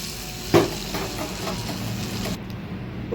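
Hot tempering of oil with dried red chillies and curry leaves poured into cooked lentil dal, giving a sharp burst of sizzle followed by a steady crackling hiss that fades abruptly near the end.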